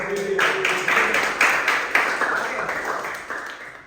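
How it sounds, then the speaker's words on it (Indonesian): A classroom of students claps in rhythmic bursts on command, sharp hand claps grouped in short patterns of threes, twos and ones, close and loud. "Tepuk 3. Tepuk 3. Tepuk 2. Tepuk 2. Tepuk 1."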